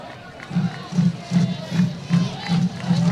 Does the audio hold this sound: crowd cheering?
yes